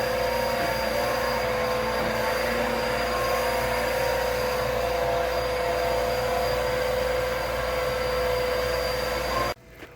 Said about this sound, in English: as you can see, we're vacuuming out these rooms now